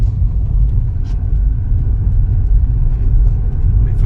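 A 20-year-old Rover 25 is on the move, heard from inside as a steady, close, low engine and road rumble with a few faint knocks and no clear talk.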